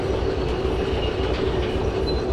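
A train in the Derail Valley railway game rumbles along with a steady low roll and a faint wheel hum, loud and continuous with no talking.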